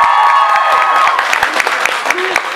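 Audience applause greets author Leigh Bardugo at her King of Scars book launch event in New York City: dense, sustained clapping from a packed room, loud and close, thinning slightly toward the end, with some cheering and crowd noise mixed in.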